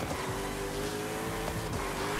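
A Nissan Tsuru's engine roars steadily at top speed on the autobahn in Forza Horizon 5, one loud sustained drone with a high whine and no break.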